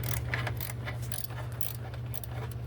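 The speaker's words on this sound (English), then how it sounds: "Couldn't get the air ratchet in there, so I'm doing it by hand." A hand ratchet works loose a headlight bolt on a 2014-or-newer Chevy Impala, giving a steady run of fine, close clicking over a constant low hum, with no talking.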